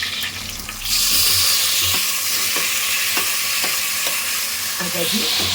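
Tomatoes and shallots frying in oil in a pan for a fish curry, giving a steady loud sizzle with scraping stirs throughout and no talk.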